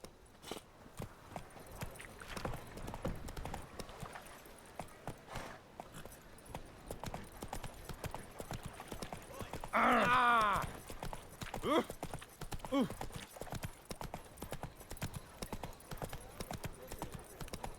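Roach the horse's hooves in The Witcher 3, a steady clip-clop of walking hoofbeats at moderate volume, with a brief whinny and a voice talking over it.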